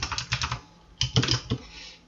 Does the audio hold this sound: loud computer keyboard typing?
yes